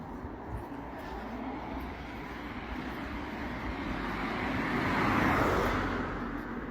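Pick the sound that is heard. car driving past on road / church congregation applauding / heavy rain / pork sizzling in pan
car driving past on road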